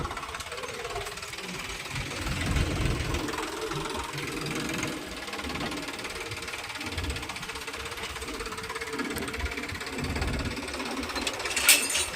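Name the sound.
tractor engine running while being loaded with manure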